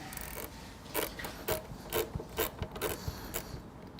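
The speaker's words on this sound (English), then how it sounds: "Use a 12 millimeter ratcheting wrench." A 12 mm ratcheting wrench turns a bolt on a Triumph Bonneville T100/T120 exhaust mount, giving a run of quick ratchet clicks in uneven bursts, close and fairly quiet, with no voices.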